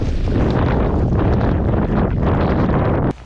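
Strong wind gusts roar and buffet the microphone at a lakeshore during ice fishing for pike near Calgary, Alberta, loud and continuous before cutting off abruptly near the end.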